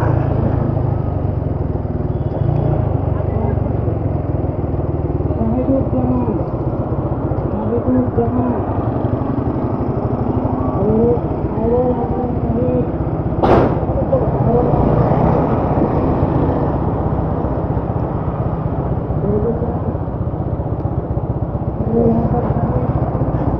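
A Suzuki Gixxer motorcycle is ridden without using the clutch, giving a loud, continuous engine drone with wind and road noise, while people talk over it and a brief sharp burst sounds midway.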